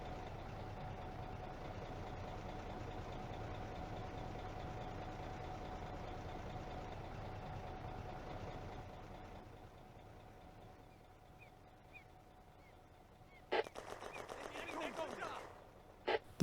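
Panzer IV and BT-7 tank engines from the Firefight wargame, set on the Eastern Front, rumble in a steady low idle for the first half, then fade to a quieter drone before sharp bursts of firing break in near the end.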